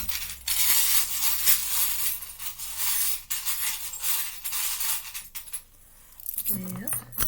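A deck of playing cards is reshuffled by hand, giving rapid riffling and flicking bursts close by that stop briefly near the end. A voice talks over parts of it.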